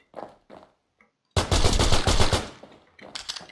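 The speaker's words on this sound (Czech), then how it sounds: "on musel slyšet tu střelbu, že šla tady ode mě" Video game gunfire in a zombie battle royale: two short faint sounds, then a loud sustained burst of rapid automatic gunfire lasting about a second, followed by more scattered shots.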